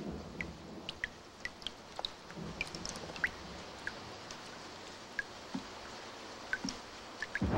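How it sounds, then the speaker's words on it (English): Rain patters with scattered individual drops and drips ticking irregularly over a soft hiss, quiet and steady throughout. "Oh, if only this rain would stop."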